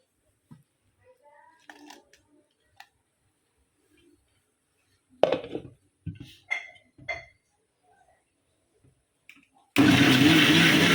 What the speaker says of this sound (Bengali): এই যে আমি মরিচটা সব ব্লেন্ড করে নিলাম শুকনো মরিচ